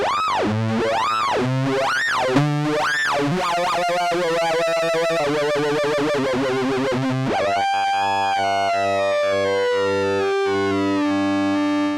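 A Moog Subsequent 25 analogue synthesizer plays with oscillator 2 hard synced to oscillator 1, producing repeated sweeping, buzzy resonant tones that rise and fall, then settle into a sustained bright, harmonically rich held note, loud and alone.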